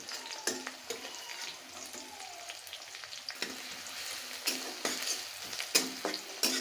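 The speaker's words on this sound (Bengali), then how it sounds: "এখন আমি পেঁয়াজ আর রসুন দিয়ে শাকটা বাগার দিব" Bottle gourd greens frying with onion and garlic: a soft, continuous sizzle punctuated by frequent sharp scrapes and taps of a spatula against the pan, some louder near the end.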